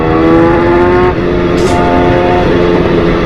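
A BMW S1000 RR motorcycle cruising in sixth gear at low revs, a loud, close, steady engine drone with a harmonic whine and continuous wind noise.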